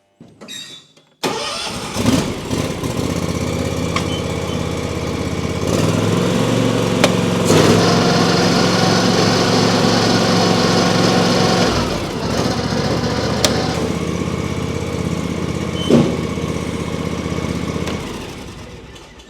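A John Deere X590 garden tractor with a snowblower attachment starts up and settles into a loud, steady engine drone. Its pitch shifts between idle and higher revs, then it drops back near the end.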